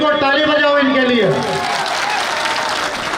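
An audience claps in applause at a Gondwana political rally, a dense burst of clapping that rises under a man's loud speech and then carries on alone as the voice falls away.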